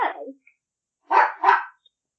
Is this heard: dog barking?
yes